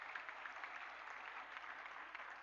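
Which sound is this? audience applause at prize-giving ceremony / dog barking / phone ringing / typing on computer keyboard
audience applause at prize-giving ceremony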